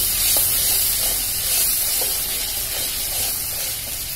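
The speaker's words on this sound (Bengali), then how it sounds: "দিয়ে দিলাম দারচিনি আর তেজপাতা।" Ginger-garlic paste, cinnamon and bay leaves sizzle in hot oil for a beef and pumpkin curry, a steady spitting hiss with faint crackles, heard up close with no talking.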